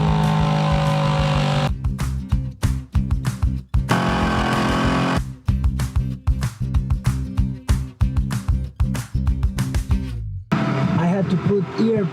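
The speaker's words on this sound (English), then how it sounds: "Time for Diego to express his manliness with power tools." Power tools cutting a new RV kitchen counter, loud whining and rattling bursts with sharp stop-start pulses, followed by a short stretch of other sound near the end; no talking.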